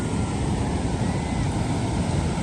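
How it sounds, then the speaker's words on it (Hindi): Sea waves roar continuously against the shore, a dense, steady wash of surf with wind rumble, loud and close, without a break. "कितनी आवाज़ करता है, कितना शोर कर रहा है समुद्र"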